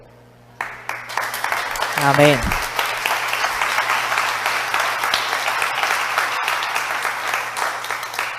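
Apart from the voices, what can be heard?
congregation applauding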